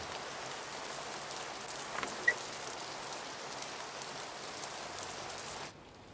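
Steady rainfall hissing evenly and softly, with a single brief tap partway through, before the sound cuts off near the end.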